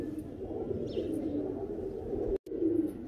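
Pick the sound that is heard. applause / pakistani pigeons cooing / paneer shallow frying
pakistani pigeons cooing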